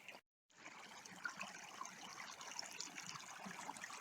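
A small mountain stream at the source of the Po river, trickling and babbling in a steady, fairly faint wash of running water after a brief silence at the start.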